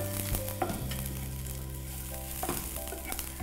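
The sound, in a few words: tempering lentils sizzling in hot oil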